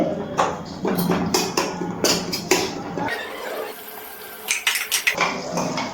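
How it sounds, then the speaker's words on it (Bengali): A metal spatula scrapes and clinks against a kadai as chicken is stirred while it releases its water, giving a series of sharp, close, irregular taps and scrapes. "একটু খুন্তি দিয়ে এইভাবে নাড়াচাড়া করে নিচ্ছি।"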